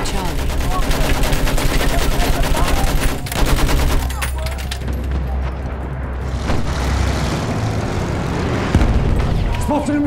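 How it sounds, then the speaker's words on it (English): Sustained machine gun fire in Battlefield 1, fast rattling bursts over heavy booms and explosions, loud and dense for the first few seconds, then thinning into scattered shots and distant rumble. "Spotted a machine gun. Look out! Machine gun!"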